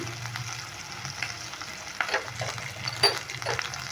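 Spice masala of ginger paste, cumin, coriander, turmeric, salt and a little sugar frying in a pan for Kashmiri aloo dum, a low sizzle with several sharp scraping stirs of a spatula, no speech.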